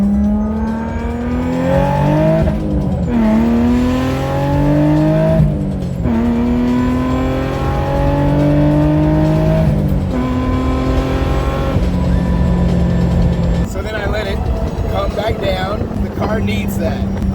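A roadster accelerating hard through several gears, its engine climbing in pitch in repeated sweeps with brief dips at each shift, loud and close from inside the car, ending in a steady cruise with road noise and faint talk.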